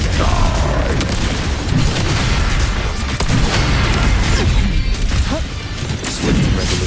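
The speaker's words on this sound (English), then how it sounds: "Another mortar thrown at us" Mortar explosions in the Wuthering Waves game, a loud, unbroken barrage of booms and crashing impacts layered over constant battle noise.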